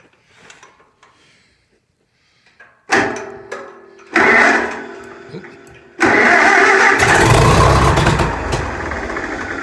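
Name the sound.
cold engine starting, may need choke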